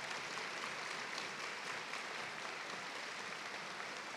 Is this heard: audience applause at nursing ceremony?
yes